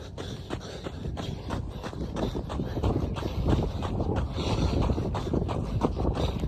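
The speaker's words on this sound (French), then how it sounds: "Il y a du vent." Wind buffets the microphone during an outdoor running interval in triathlon training, a steady low rumble with gusting swells and a faint rhythmic shuffle of footsteps beneath it.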